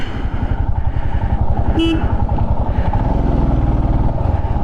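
A motorcycle engine idles and revs steadily up close with a rhythmic putter on the road to Khardung La pass, a brief horn toot sounding partway through.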